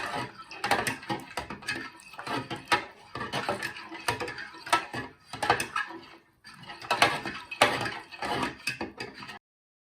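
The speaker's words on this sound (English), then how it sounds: "you want to give that a good stir with your fork" A fork is stirred briskly through chicken and vegetable soup with a stock cube in a pot, giving close, rhythmic scraping and clinking strokes in repeated bursts with brief pauses between them.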